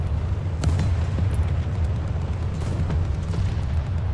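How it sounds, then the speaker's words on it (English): Bomb explosions in War Thunder, a rolling low rumble of distant booms with a few sharper bursts over a constant heavy drone, no talk. "I hear bombs!"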